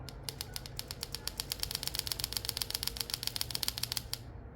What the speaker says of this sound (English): this part right here, it emits a sound that drives the striper crazy